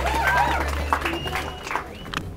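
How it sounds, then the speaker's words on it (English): A crowd applauds at a homecoming welcome for a returning track athlete. The clapping is scattered and moderate, mixed with crowd chatter, tonal sounds and some voices. "Could you give him a round of applause,"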